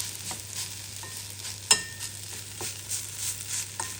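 Grated potato rosti frying in a pan, pressed down to cook over lowered heat, gives a steady soft sizzle with occasional sharp clicks and taps of a utensil against the pan, with no talking.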